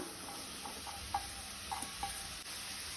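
Boiled potato and washed poha are stirred together in a pan for Goan-style potato poha, giving quiet, close scraping and soft clinks of a spoon over a faint low sizzle.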